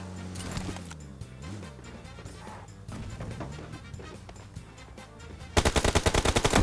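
Gunfire in the PUBG video game: scattered shots and bursts through the middle, then a loud, rapid automatic volley with evenly spaced sharp reports at the end, close and dominant.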